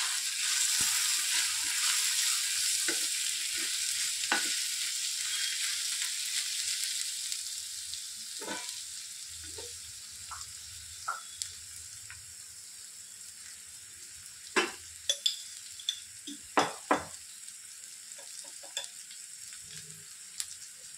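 Turmeric, chili powder and salt frying in hot oil in a pan for a dry fish curry with jackfruit seeds: a steady hiss and sizzle, with scattered sharp scrapes and clicks from stirring that grow more frequent toward the end.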